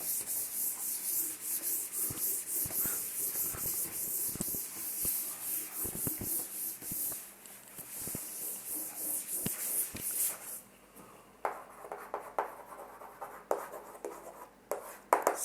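Marker or chalk scratches across a board during a complex analysis lecture, in quick rhythmic strokes with short pauses, close and moderately loud, then turning quieter and more scattered near the end.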